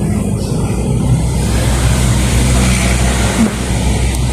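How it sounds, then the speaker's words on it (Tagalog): Roadside highway traffic with many trucks passing at night makes a loud, continuous roar and engine drone, close by and unbroken. "Kasi nasa gilid kami ng karsada ng highway. So, sobrang raming truck, ganun."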